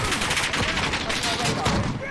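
Dense, rapid gunfire from the video game Call of Duty: Modern Warfare rattles continuously in overlapping bursts, loud and close, for the whole stretch.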